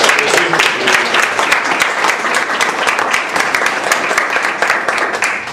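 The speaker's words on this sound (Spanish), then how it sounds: "Yo pido un fuerte aplauso para todos quienes estamos presentes y sobre todo para los jóvenes que nos están viendo." Audience applause at a regional poetry event in Lambayeque, a steady, dense wash of clapping that holds at full level for several seconds with no voices over it.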